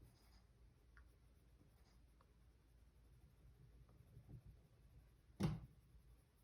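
A pencil shades small circles on paper while building up a sphere, a faint, steady soft scratching in a quiet room, ending in a brief louder knock.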